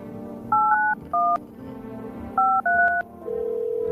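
Phone dialing tones in the video game I'm Not Human: a short sequence of distinct keypad beeps in two bursts, followed by a steady ringing tone, loud and clear with no talk.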